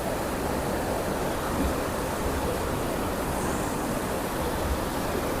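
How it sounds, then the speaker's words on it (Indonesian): River flowing behind a riverside hut in Aceh, a steady broadband rush of water that fills the whole stretch evenly without pause. "di belakangnya sungai"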